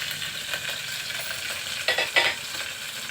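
Green chilli pieces fry and sizzle in hot oil for a khichdi tempering, with a steady crackle and a few brief louder bursts of sizzle as the pan is stirred, close and alone.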